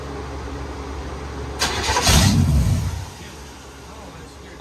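A car engine cranks for a moment, then catches and fires up loudly before settling toward a lower running sound.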